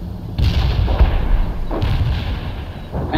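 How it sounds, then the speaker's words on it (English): Artillery firing phosphorus rounds in World in Conflict: heavy booming blasts at about 0.4, 1.8 and 3.1 seconds over continuous low battle rumble, with no talk. "Firing a phosphorus."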